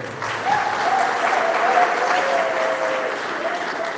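A congregation at Mass applauds together in a church, a steady, moderately loud wash of clapping that holds for several seconds, with a voice carrying faintly over it.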